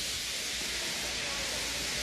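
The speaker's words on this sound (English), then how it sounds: "He just let off steam feebly." Feeble, steady hiss of a steam engine letting off steam, a soft continuous broadband rush lasting throughout without breaks.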